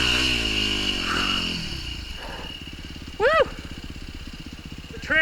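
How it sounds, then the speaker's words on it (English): Dirt bike engine (KTM 150 or Yamaha YZ250F) labouring over rocky single track on a cliffside trail near Moab, Utah, its close, loud, rapidly pulsing chug rising and falling with throttle blips, with brief squeaky clatter and a rider's voice early on. "I'm working that bike so hard."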